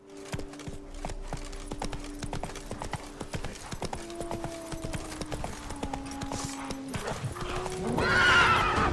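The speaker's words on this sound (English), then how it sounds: "Oh my god, the horse is so terrible in this game." A horse gallops with rhythmic clip-clop hoofbeats in The Witcher 3, neighing and whinnying repeatedly over the hooves, with a louder whinny near the end.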